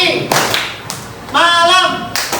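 A class in an Indonesian school claps together in a few broad, crisp bursts, with voices chanting along between and over the claps.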